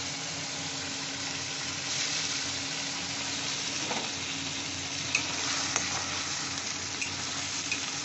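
Onion, ginger and garlic paste sautéing in a pan while cooking snakehead fish, a continuous even sizzle with occasional light spoon scrapes, close and moderately loud.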